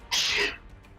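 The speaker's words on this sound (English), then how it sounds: "So many sneezes." A single sharp sneeze bursts out up close, short and forceful, followed by a quiet room.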